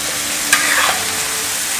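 Goat liver masala fried on a tawa sizzles loudly and steadily, with one brief scrape of a spoon stirring through the pan partway in.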